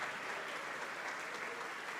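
Steady, dense applause from a church congregation at a worship service, continuous and even in volume throughout with no break.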